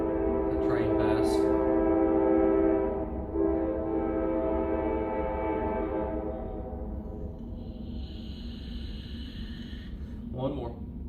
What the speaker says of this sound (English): The train pass.